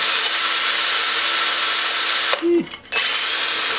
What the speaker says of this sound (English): now I'm just using my wire wheel to clean out some of the crap that's in here